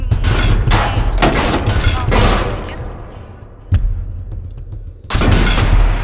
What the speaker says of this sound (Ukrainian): у нас є тут ракета. А уже така вибухає